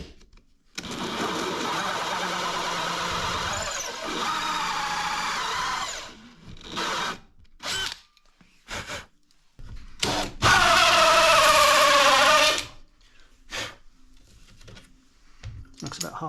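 A power drill bores a lock hole through a solid wood door with an Irwin door lock installation kit. Loud sustained whirring and grinding comes in long runs and short bursts with pauses, and someone talks in the gaps.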